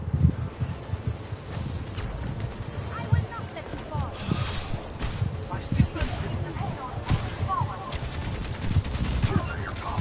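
Rapid rifle fire and overlapping gunshots in the Overwatch video game, bursts of shots fired in close succession under game noise, with a player talking over the shooting.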